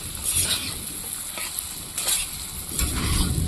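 Taro curry is stirred and fried in a pan, a steady loud sizzle broken by scraping stirring strokes that come in a few uneven bursts.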